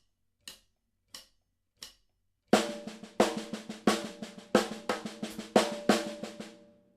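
Acoustic drum kit played with sticks: a few sparse single strokes, then a dense run of double paradiddle sticking alternating left and right hands, snare and drum hits ringing with tonal overtones, close and clear with no talk.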